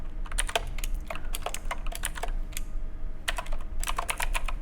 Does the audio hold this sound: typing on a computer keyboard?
yes